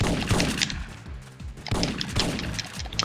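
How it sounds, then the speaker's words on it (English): Shotgun fire in the video game Syphon Filter: a rapid series of sharp, loud blasts with short decaying tails, clustered at the start and again in the second half. "it's nice to see it when a shotgun can actually shoot someone more than 3 feet away from you"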